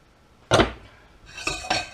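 Ingredients for a beef and tomato stew tipped into a cooking pot: one sharp clattering knock of a utensil against the pot, then two lighter clinks shortly after, close and alone without talk.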